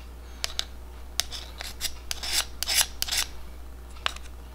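A knife scraping against an oyster shell while shucking, a series of short sharp rasps and scratches over a steady low hum, close and with no talk.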